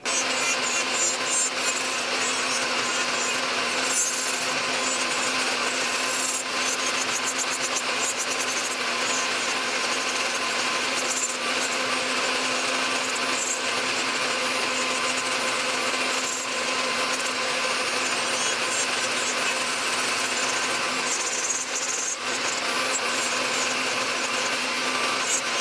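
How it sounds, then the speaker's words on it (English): A Mani Pro electric nail drill grinds away layered hard gel polish, a constant high whirring with gritty rubbing texture, steady and close throughout with no pauses. "So I'm going to use my Mani Pro on these two so we can look at the difference here."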